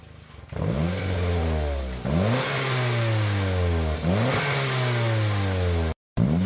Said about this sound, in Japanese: まずは5000回転くらいまでの空ぶかし。